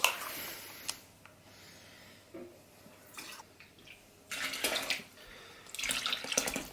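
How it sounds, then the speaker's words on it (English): Water poured into a pot of simmering rice for jook in a home kitchen, a faint splashing pour in short bursts, quiet and close with no talking. "let's put in 1 more cup of water"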